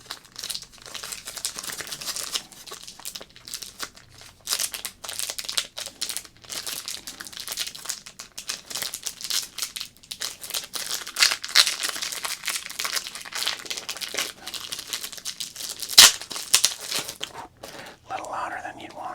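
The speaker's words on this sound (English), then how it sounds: "I'm going to open up this little grab bag here" A crinkly plastic grab bag of baseball cards being torn open and handled, with loud close crackling and crumpling that comes in irregular bursts throughout, and a sharp rip near the end.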